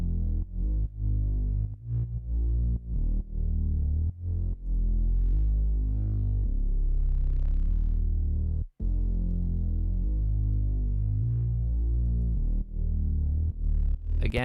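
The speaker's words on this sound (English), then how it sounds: "the one kind of bass synth that I think the Prophet is really good at is a bass synth that sounds like this" A deep, throbbing Prophet polysynth bass plays a pulsing line with rich low harmonics, steady and loud throughout, with a brief dropout near the middle.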